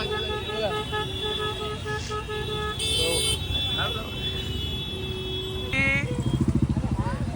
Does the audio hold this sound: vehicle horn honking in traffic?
yes